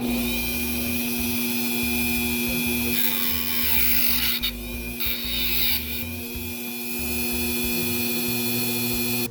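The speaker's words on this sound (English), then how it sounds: "Turn on the Dremel and cut along the Sharpie mark." A Dremel rotary tool cuts along a marked line on a tube, a close, steady high-pitched whir with a mains hum beneath and brief changes in tone as the cut bites.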